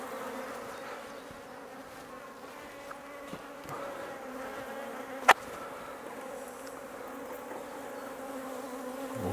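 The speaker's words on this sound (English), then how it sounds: "So we'll just shake these bees off." Honey bees buzz steadily in a soft, continuous drone while being shaken off a hive frame, with a few faint knocks and one sharp click, and no talking.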